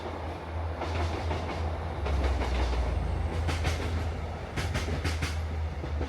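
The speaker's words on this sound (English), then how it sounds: "that's a train again" A train rolls past an allotment in Morecambe, a steady rumbling roar with rhythmic clickety-clack bursts from the wheels, fairly close and continuous throughout.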